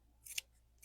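Scissors trim craft loops in one short, crisp snip close by, followed by a faint second cut in a quiet room.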